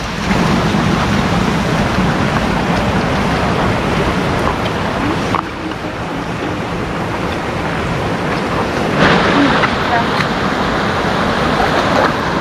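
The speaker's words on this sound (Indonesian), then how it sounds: "ternyata turun hujan ya, tapi gerimis ya tuh." Light drizzle falling at a hidden bathing pool in a valley, a steady soft broadband hiss of rain and water that runs unbroken for the whole stretch, with no voices.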